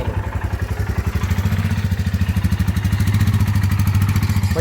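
Single-cylinder motorcycle engine, a Honda CB 350 or Royal Enfield Himalayan, pulling in third gear: steady close thumping exhaust pulses that grow louder and faster as it labours under load, with no talk over it.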